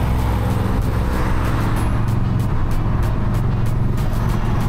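A BMW 750Li engine runs loud and close, a steady broadband rumble of revving and pulling away with no voices over it.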